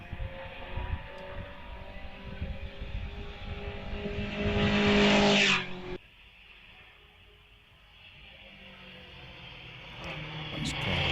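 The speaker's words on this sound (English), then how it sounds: "we've got the Fraser Nash Lamont on the hill, post-war Fraser Nash with Bristol engine" A post-war Frazer Nash with a Bristol engine climbs a hillclimb course, its engine note rising loud and close before dropping sharply as it passes, then a fainter, distant drone as it carries on up the hill.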